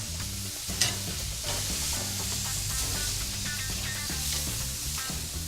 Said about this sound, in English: Our skirt steak on the open fire.